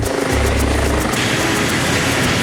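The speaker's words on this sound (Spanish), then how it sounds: "El fuerte ruido de un helicóptero indica que llega otra emergencia al centro médico." A helicopter arrives at a medical center carrying an emergency patient, its rotors pounding out a loud, close, rapid chopping thump over a dense engine roar.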